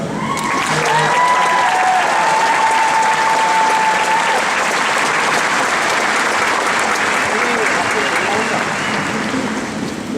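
An audience at a graduation ceremony breaks into loud, sustained applause welcoming a speaker, dense clapping that holds steady for about ten seconds, with a few voices briefly heard near the start.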